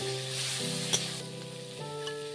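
Chopped capsicum sizzling in a hot pan for chilli baby corn, a loud steady frying hiss close by with a single soft stir or knock partway through.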